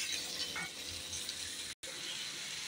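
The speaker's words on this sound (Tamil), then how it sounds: "இது எல்லாமே சேர்த்து நல்லா வதக்கணும்." Tomatoes and dried chillies sautéing in a pan for a spinach and tomato chutney, a steady close sizzle broken by one very brief cut near the end, with no voice.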